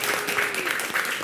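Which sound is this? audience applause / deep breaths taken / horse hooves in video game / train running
audience applause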